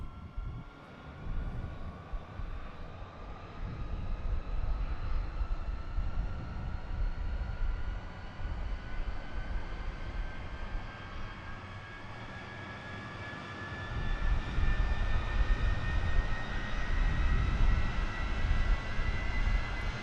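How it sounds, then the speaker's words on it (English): A Concorde jet engine in a flight simulator game spools up with a rising whine and steady roar, growing louder toward the end, with no talking. "So engine number 3 is coming alive."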